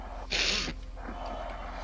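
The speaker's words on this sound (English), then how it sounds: "Sounds like somebody has a sniffle snot nose going on." A person's nose gives one short, sharp sniff or snort, as though from a runny nose or allergies, loud and close, then quiet background with faint breathing.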